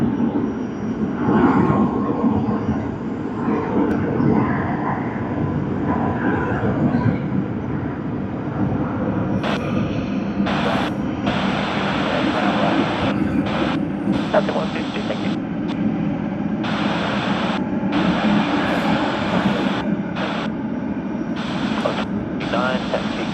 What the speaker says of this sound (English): we have another one out here, Boeing 777-200, Air Canada, AC-34 to Vancouver.